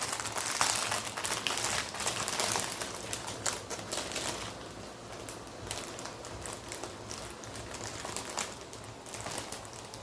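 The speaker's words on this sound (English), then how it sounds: "sorry for the rustling" Plastic packaging of diamond art drill bags crinkles and rustles as it is searched through, with irregular close crackles, louder early on and continuing steadily with a faint low hum underneath.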